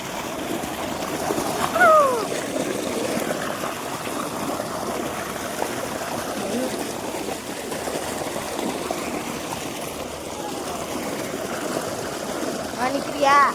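Cold water splashes and trickles steadily while a small daughter is washed, low and continuous, with a couple of louder splashes near the start and end and soft voices talking over it.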